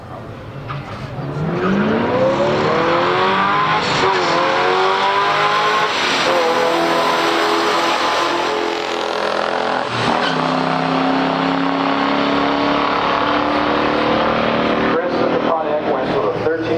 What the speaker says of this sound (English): In the right lane, we got a Cardinal Red, 1970 Pontiac GT37, owned by Chris Matana.